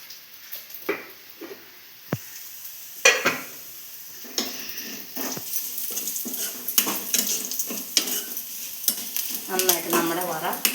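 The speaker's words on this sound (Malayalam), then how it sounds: "ഇനിയിപ്പോൾ നമ്മളിത് ഉണക്കമുളകും കറിവേപ്പിലയും കൂടി ഇതിലേക്ക് ഇടുന്നു." Dried red chillies and curry leaves frying in hot oil for a Kerala-style tempering, with a sharp sizzle burst, crackling and popping that build and grow denser, plus occasional spoon clinks and stirring scrapes against the pan.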